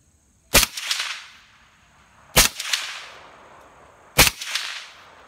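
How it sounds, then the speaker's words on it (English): Three suppressed subsonic 7.62x39 rifle shots, 220-grain rounds through a Dead Air Wolverine suppressor fired into a dirt backstop, each a sharp muffled crack with a short decaying tail, evenly spaced about two seconds apart, loud and close. "We're going to shoot the backstop instead."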